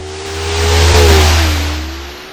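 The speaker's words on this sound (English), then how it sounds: "start your engines!" A loud race car engine revs up and back down in one smooth rising and falling sweep, with nothing else heard.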